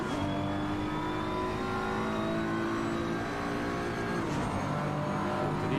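Race cars lapping at Imola, engines droning loud and steady at close range with a slight pitch shift near the end as one car runs in another's slipstream.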